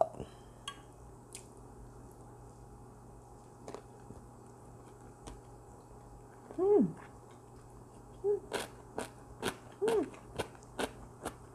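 Squid and radish chungmu gimbap chewed up close, with a few soft crunchy bites and wet mouth sounds spaced through an otherwise quiet stretch.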